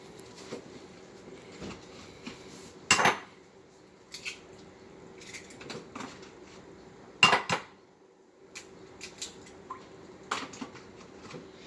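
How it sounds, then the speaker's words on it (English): Six eggs cracked into a separate container for a keto meal, a few sharp isolated taps and shell cracks with small clinks and splatty drips between them against a quiet room. "So let's crack these 6 eggs."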